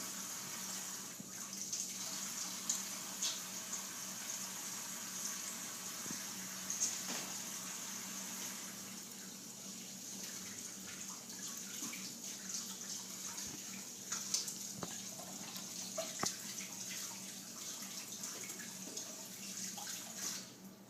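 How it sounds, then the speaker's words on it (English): Steady rush of running tap water while hands are washed at a sink, a continuous close hiss with small splashes and shifts as the hands move under the stream for about twenty seconds. "now I'm going to go ahead and wash my hands again"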